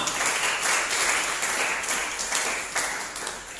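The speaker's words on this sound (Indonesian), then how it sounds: "Tepuk tangan untuk Tuhan" A church congregation claps together for God during a worship service, a dense, sustained wash of many hands applauding at a steady level throughout, with no talking.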